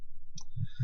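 Mouse clicks on an expand button in an email program make a few soft, close taps in quick succession within a quiet moment, with no talk.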